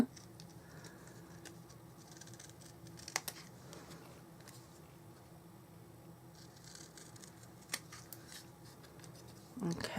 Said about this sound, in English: I'm going to cut round that doodad